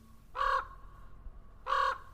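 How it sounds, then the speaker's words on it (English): A raven gives two loud, harsh caws about a second apart, each a short rasping call standing alone against quiet background. "He sent out a raven."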